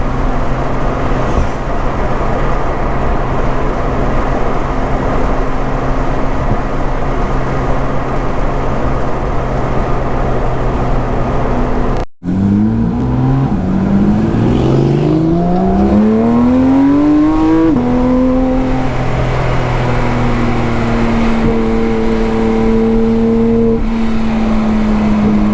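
A Porsche GT3 RS with an MBRP exhaust idles with a steady rumble, then after a short break revs hard several times, its pitch climbing and falling in loud, close sweeps.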